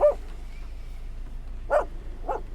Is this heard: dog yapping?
yes